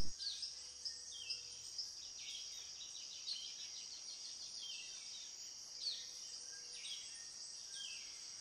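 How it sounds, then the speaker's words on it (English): A male striped rocket frog calls tirelessly from leaf litter along a rainforest stream on Costa Rica's Osa Peninsula, giving faint, repeated high chirps in a steady series over a constant insect hiss. "A dominant sound along the streams is produced by the striped rocket frog. This male calls tirelessly from the leaf litter."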